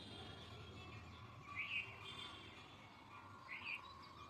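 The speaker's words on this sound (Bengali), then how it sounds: "ওই যে বুলবুলি পাখিটা" A bulbul sings in short chirping phrases at about 1.6 and 3.6 seconds, fairly faint and distant over a steady outdoor background hum, with no one talking.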